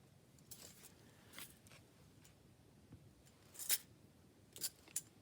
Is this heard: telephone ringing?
no